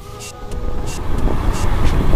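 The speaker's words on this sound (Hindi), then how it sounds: "थोड़ा सा ट्रैफिक है आज, देखो कितनी गाड़ियाँ जा रही है आ रही है।" Road traffic on a busy single-lane street in a market area of Ranipura, Indore, with cars and other vehicles passing steadily close by, a continuous low rumble with brief hiss-like swells as vehicles go past.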